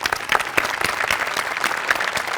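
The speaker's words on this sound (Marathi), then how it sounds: "तुमच्या सगळ्यांसाठी एकदा टाळ्या." Audience applause for the cast of a Marathi comedy show, a dense, steady clatter of many hands close up, filling the whole stretch with no speech over it.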